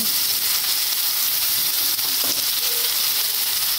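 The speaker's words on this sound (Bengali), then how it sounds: "পেস্টটি দেওয়া হয়ে গেলে ভালো মতন মশলাটাকে আমরা আরেকবার কষিয়ে নেব" Spice paste frying and being stirred in a pan for chicken tawa fry, a dense, steady hiss and sizzle heard up close with only faint stirring movement, no speech.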